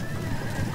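Horses in the video game Total War: Rome 2 during a cavalry battle, a brief snatch of neighing and hoof noise within dense battle ambience, loud and continuous throughout the short moment.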